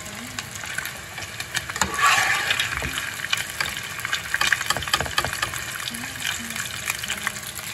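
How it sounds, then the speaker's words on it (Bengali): Boiled hot water pours into a pan of fried paneer for a peas and paneer curry, giving a gushing, sizzling splash that swells around two seconds and then settles into a steady bubbling hiss. "এখন আমি গরম জল, ফোটানো গরম জলের মধ্যে দিয়ে দিচ্ছি।"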